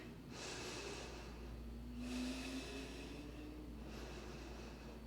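Slow, deep breathing during a gentle accessible yoga flow, with three long soft airy breaths spaced evenly over a steady low background hum, faint and close, no talking.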